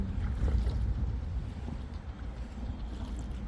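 A low, continuous engine rumble from a boat in a long boat procession, loud and steady, with a faint wash of wind and water over it.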